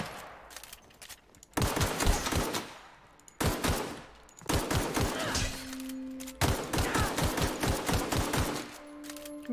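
Automatic gunfire in the video game The Outer Worlds, played on hard mode: loud rattling bursts of several seconds each, separated by short pauses, with thumps and faint tones between volleys.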